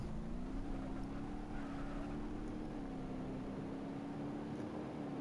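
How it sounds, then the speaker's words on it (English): A car launches with some wheel spin off the line in a BeamNG.Drive drag race, its engine a steady, moderately loud droning hum that holds a near-constant pitch throughout, with no talking. "Some wheel spin, but not enough to be uncontrollable."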